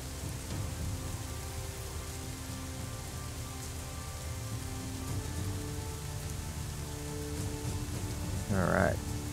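Steady rain hiss from the naval strategy game Battle for Midway, a constant even wash of noise throughout, with a brief tonal blip near the end.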